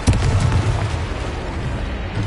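A Confringo spell blast in Hogwarts Legacy lands as a dense, booming burst that rumbles on and slowly fades, loud and close with no talk.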